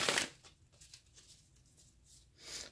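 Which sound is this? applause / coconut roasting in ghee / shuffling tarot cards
shuffling tarot cards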